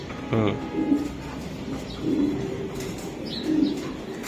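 Racing pigeons coo in low, throaty bursts, three or four soft calls spaced a second or so apart, close by over steady background hum, with a person speaking nearby.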